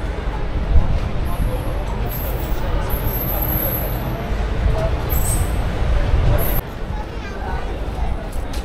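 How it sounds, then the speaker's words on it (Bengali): A train pulling into Bandel station on a Bengal rail line, a steady loud rumble with station hubbub and public-address style tones, a voice talking over it. "ট্রেন আসছে, রাইট টাইমেই ঢুকছে ট্রেন।"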